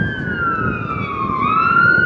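Police car and ambulance siren on the road, a single wailing tone sliding slowly down and then back up, moderately loud over low traffic rumble.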